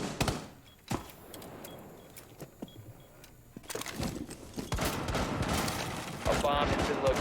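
Bursts of gunfire in a Rainbow Six Siege match, sharp scattered shots early, then denser rapid fire and clatter later, mixed with game effects and faint talk underneath.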